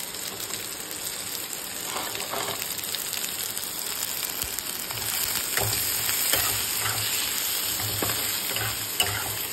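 Ginger fries in a non-stick wok with a dense, continuous sizzle that swells slightly midway, while faint stirring scrapes sound now and then; close-up and alone.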